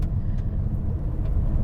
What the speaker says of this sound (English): the car is doing a fantastic job on the gravel.